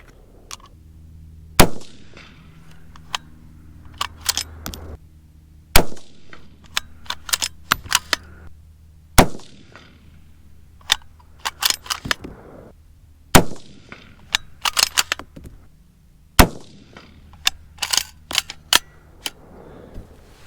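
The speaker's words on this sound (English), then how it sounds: "I shot those in pretty quick succession, not crazy fast, but got them downrange." Rifle shots from a .224 Valkyrie ring out at an outdoor range, about seven sharp, loud cracks spaced a few seconds apart, each trailed by brief echo, with quieter clicks and metallic handling noises between shots.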